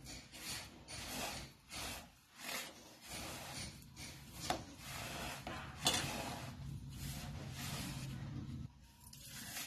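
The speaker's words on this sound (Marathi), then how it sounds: "आता हे मिश्रण चांगलं हलवून घ्यायचं." A mixture of mashed potato and crushed peanuts is stirred in a bowl, giving soft, irregular scraping and rubbing strokes, quiet and close, with brief pauses between movements.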